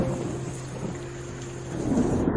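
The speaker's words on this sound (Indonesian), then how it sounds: "Hujan deras di luar" Heavy rain pours steadily outdoors with a low rolling rumble of thunder beneath it, a continuous dense wash with no voices.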